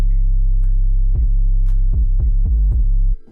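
A slow FL Studio beat with a Maximus low-end boost on the master bus, a loud, heavy sustained bass drone with a few punchy kick hits before it cuts off abruptly at the end.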